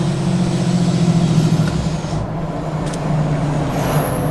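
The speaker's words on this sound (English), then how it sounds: "And like I said, exhaust brake" Lifted six-speed Cummins diesel truck on 40-inch tires, towing a huge camper, with its exhaust brake engaged: a loud, steady low droning rumble that holds throughout with slight dips, no talking over it.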